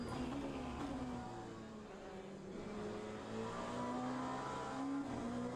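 Race car engine in Le Mans Ultimate, held on power as the car slides through a corner, a steady loud drone with shifting harmonics and no gaps, no voices over it.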